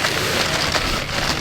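A Thermarest NeoAir sleeping pad gives off a continuous close, crinkly rustle with faint crackles throughout the short stretch.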